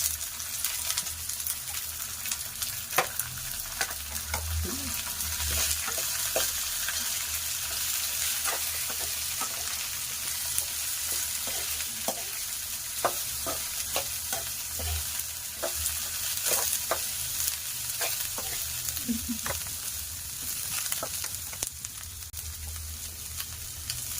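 Green chillies fry in a pan for a South Indian cabbage upma, giving a continuous soft sizzle broken by scattered scraping clicks from the stirring spoon, with no one talking.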